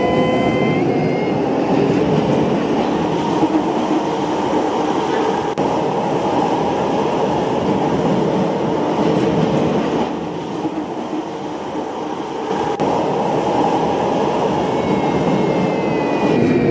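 A Roblox train, the TEL Service CT251, runs steadily in the game with a continuous rumbling roll and faint rhythmic clatter, loud and unbroken for many seconds, easing slightly near the end before resuming.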